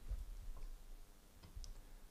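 A computer mouse clicks the upload button, a few small quiet ticks spaced over a couple of seconds against a low background hum.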